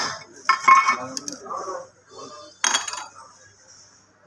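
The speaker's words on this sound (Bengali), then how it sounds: "এটা বাড়ি দিবেন, যদি কোনো ময়লা থাকে তাহলে বের হয়ে আসবে।" A metal gas stove burner part is tapped against a hard surface to knock dirt loose, giving two clusters of bright clinking knocks separated by a short pause, close and fairly loud.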